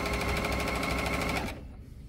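A serger sews fusible binding onto a quilt edge with a rapid, steady mechanical whirring that stops abruptly after about a second and a half.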